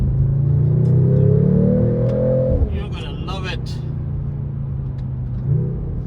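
Digitally enhanced engine note from a 2025 Mercedes-AMG CLE53 coupe: a loud, steady growl rises in pitch, then drops away into a quieter idle-like rumble, with some voice-like sound in the middle.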